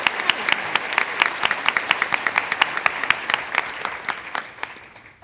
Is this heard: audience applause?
yes